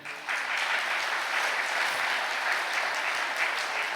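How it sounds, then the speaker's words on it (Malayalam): A Catholic congregation claps with raised hands during a priest's sermon, producing a full, continuous roar of applause that swells in quickly and stays loud and even for several seconds. "എന്നാൽ കൈയുയർത്തി കൈയടിച്ചേ"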